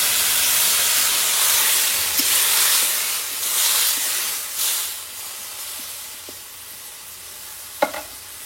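Vegetables, ridge gourd and eggplant softened in a pan over a rural Indian village kitchen fire, give a steady hissing sizzle as water is poured in, with steam rising in broad surges and a few faint clinks near the end.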